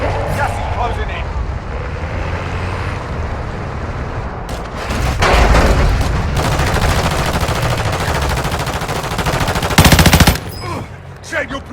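Gunfire in the mobile battle royale game Warzone Mobile on the Verdansk map: rapid automatic bursts and heavy shots over ambient noise, with a loud burst near the end and a brief spoken game voice line.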